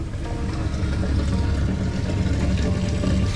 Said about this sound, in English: Right, so we're running the cold water right now.